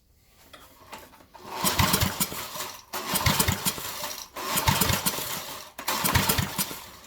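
A cheap 5k portable generator, pieced together with a tank from a parts unit, is pulled over repeatedly, giving four rhythmic cranking bursts with sputtering engine noise that never settles into a steady run.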